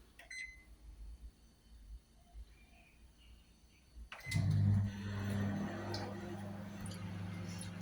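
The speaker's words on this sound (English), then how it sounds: "now I will cook it for 8 minutes on microwave." A microwave oven starts partway through, a sudden steady hum replacing a quiet kitchen background and continuing loud and even to the end.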